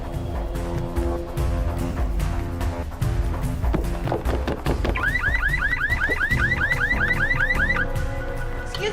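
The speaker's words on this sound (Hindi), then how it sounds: "वो गाड़ी का अलार्म बज रहा है।" A green Volkswagen's car alarm blares loudly over a busy street scene, its warbling siren rising and falling in repeated swoops over a rumble of background noise.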